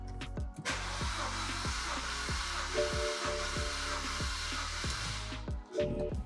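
A BMW engine with about 200,000 miles cranks on the starter during a cylinder compression test, giving a steady, loud, rhythmic chugging with an even whirring beneath it for about five seconds before stopping.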